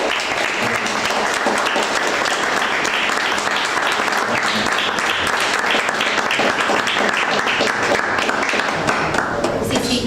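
A crowd at a Santa Bárbara miners' commemoration breaks into loud, sustained applause, dense clapping from many hands filling the whole stretch without letting up, with some crowd murmur mixed in.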